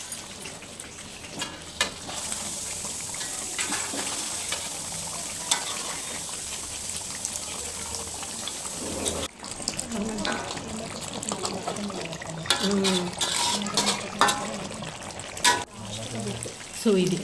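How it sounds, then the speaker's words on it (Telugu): Chicken leg pieces fry in hot oil and get stirred now and then, giving a steady close sizzle broken by scraping stirs, with a voice speaking over it. "ఆయిల్లో కూడా మంచిగా ఫ్రై అవుతుంది అన్నమాట"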